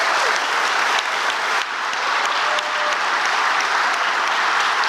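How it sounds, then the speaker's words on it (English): Sustained, dense applause from a conference audience at a tech event fills the space evenly and loudly, with no talking over it. "Let's give him a round of applause."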